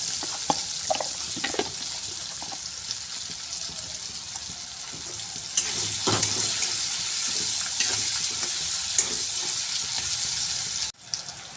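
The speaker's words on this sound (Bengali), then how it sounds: "পেঁয়াজগুলো দিয়ে দিলাম, তেলটা গরম হয়ে গেছে আমার।" Onions dropped into hot oil in a Bengali kitchen, with spices and bay leaf already in the pan, give a steady, close hiss of frying with a few sharper crackles.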